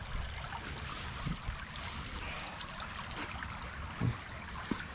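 A small rocky stream flows and burbles steadily at close range, a continuous watery rush with a few brief splashes.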